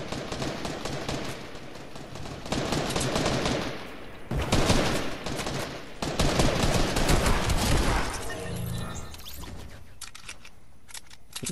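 Rapid gunfire in Fortnite during a duos match, dense bursts of shots crackling almost continuously with brief lulls, loud and close, with no voices.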